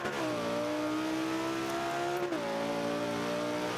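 A 2005 Honda NSX engine in Forza 5 drops a gear with a quick blip of revs, the note falling then jumping back up to a steady drone, alone and fairly close.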